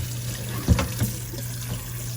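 Hot tap water runs over cooked spaghetti noodles in a sink, a soft steady flow with a low hum beneath and a couple of brief splashy bumps.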